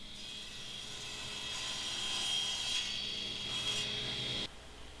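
A table saw set to a 45-degree bevel cuts a reclaimed pallet wood board, giving a continuous high whining rasp for several seconds that cuts off abruptly near the end.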